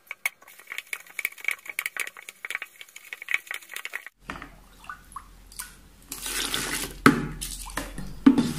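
Salt water being slowly poured into homemade dish soap in a bucket while it is stirred, giving faint trickling and rattling at first, then louder sloshing, splashing liquid with knocks of the stirrer.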